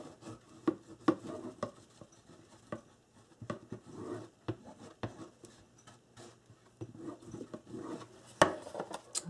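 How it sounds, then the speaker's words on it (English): Bone folder rubbing and wiping excess glue inside a paper memory box, soft scattered scrapes and taps close up, quiet and intermittent with no talk. "Wipe up any excess glue. I just use my bone folder to"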